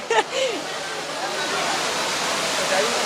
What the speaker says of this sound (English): So this is the Amenano fountain.